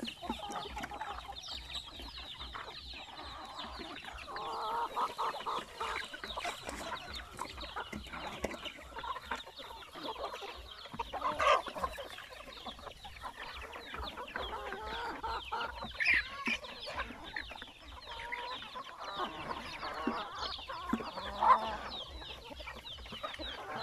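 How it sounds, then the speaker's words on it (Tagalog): Flock of upgraded native chickens, hens and roosters together, clucking steadily and overlapping throughout at moderate distance, with a few sharper calls standing out. "since marami po tayong mga dumalagang manok or yung mga hens dito ng mga upgraded na mga native chicken"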